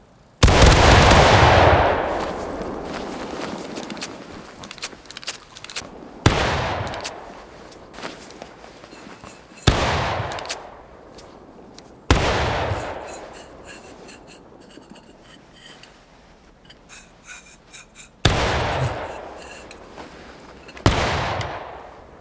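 Musket volleys fired by rank in the War of Rights video game: six loud, booming volleys spaced several seconds apart, each a ragged cluster of near-simultaneous shots with a rolling echo that fades before the next.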